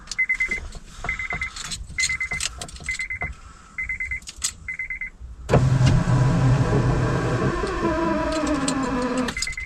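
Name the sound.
Honda power windows operated by holding key fob button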